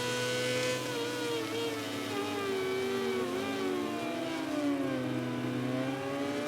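A racing motorbike in MotoGP 18 revs hard through the final corner, giving a continuous high engine whine whose pitch rises and falls as the throttle and gears change. It sounds close and steady, with no talk over it.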